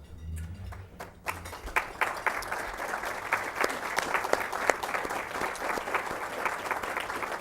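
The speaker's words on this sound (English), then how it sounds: "I'd like for all the foundation board members to please stand up for a round of applause" Sustained round of applause from an audience at an education foundation awards event, honoring the foundation's board members; dense, steady clapping from a sizable crowd, heard alone after a brief quiet start and lasting throughout.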